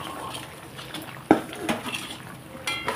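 A paneer and potato curry simmers in a pot while a spoon scrapes and clinks against the metal, with one sharp knock and soft bubbling between the stirs.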